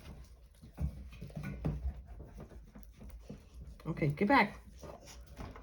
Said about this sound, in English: My dogs have joined me, so if you hear them